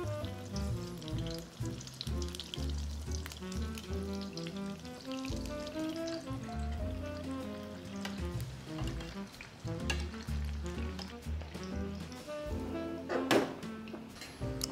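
Turon malagkit, banana-and-sticky-rice rolls, fry in hot oil until crisp, a steady close sizzle running throughout with scattered pops, clinks and kitchen handling noises.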